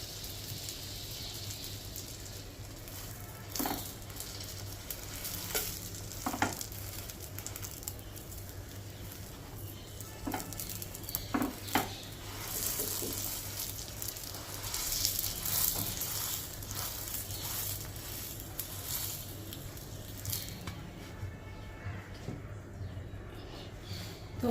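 Bread (pav) frying in butter in a hot pan makes a continuous soft sizzle and crackle, with occasional light taps and scrapes of utensils over a low background hum.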